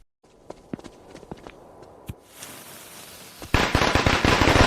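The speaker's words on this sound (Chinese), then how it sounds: "去放鞭炮。" Firecrackers are set off on New Year's Day. Scattered single cracks and pops come first, then a dense, loud burst of rapid crackling bangs at the end.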